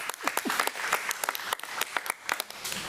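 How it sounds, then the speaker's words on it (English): A crowd at a committee meeting applauds steadily for a few seconds, dense clapping with scattered louder claps standing out. "Let's give them another round of applause."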